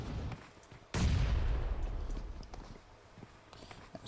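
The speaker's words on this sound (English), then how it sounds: "Nades coming out from Blackhawks here." Grenades bursting during a competitive video game scrim, with a sudden loud blast near one second that rumbles and decays, followed by scattered smaller impacts and clatter in the background.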